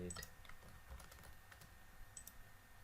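Code is typed on a computer keyboard in quick, light key clicks, quiet and close.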